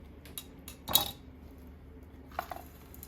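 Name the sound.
soup bowls being brought over and set down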